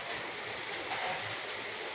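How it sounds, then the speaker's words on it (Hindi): Heavy rain pouring down outdoors, a dense, even wash of hissing patter that holds steady throughout, with no voices. "इतनी बारिश हो रही है कल से कि बता नहीं सकते बहुत।"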